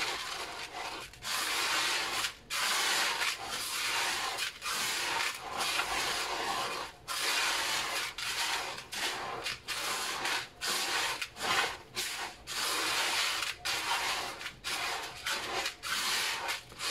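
Bath salts and baking soda being stirred together, a repeated gritty scraping and rubbing in steady strokes with brief pauses, close and fairly loud, no voices.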